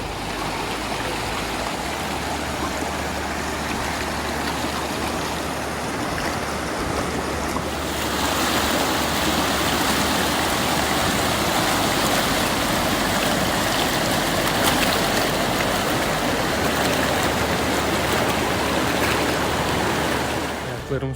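A cold mountain stream rushes through an Alpine canyon near Oberstdorf, making a loud, steady broadband roar of flowing water close by that swells slightly partway through and continues unbroken.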